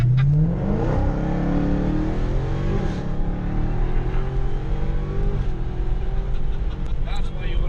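Dodge Hellcat accelerating hard at high speed, a loud, close engine roar with rising revs and gear changes and heavy wind noise, running continuously under excited talk.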